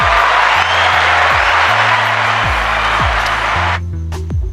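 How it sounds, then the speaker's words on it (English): A small group claps for a person on a casual talk show. The applause is steady and fairly loud across the whole stretch, layered over low rhythmic background music, and eases off near the end. "Give him one more clap."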